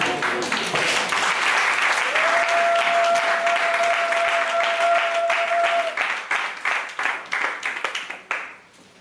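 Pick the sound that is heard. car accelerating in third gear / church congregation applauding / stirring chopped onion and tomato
church congregation applauding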